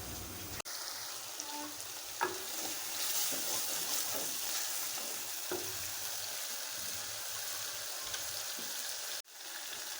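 A masala spice paste mixed with green chili paste is frying in a pan, giving a steady close sizzle with occasional stirring clicks, and a sharp knock at the start and another near the end.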